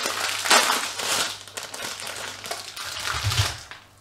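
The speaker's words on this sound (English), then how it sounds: "Excuse the rustling." Plastic packaging of frozen food crinkles and crackles up close in continuous irregular bursts, handled and opened in a kitchen, fairly loud with faint background hum and no talk.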